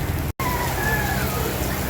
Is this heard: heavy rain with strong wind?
yes